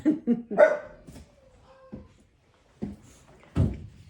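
Dogs bark in short, sharp bursts at a survey worker, a quick cluster of barks and yips followed by a pause and two more barks, fairly close and loud.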